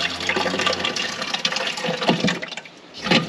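Water runs steadily through the pipework of a tractor-mounted beet chopper on a David Brown tractor, a continuous close rushing and gurgling that swells briefly near the end.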